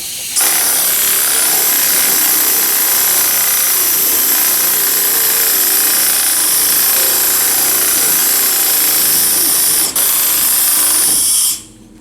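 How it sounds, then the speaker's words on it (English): A power sander works over Bondo body filler on a car panel. The grinding whir is loud, continuous and close for about eleven seconds, then cuts off, with no voices. "Let's hit him with the sander and see what we think."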